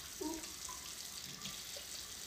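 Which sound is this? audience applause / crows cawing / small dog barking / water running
water running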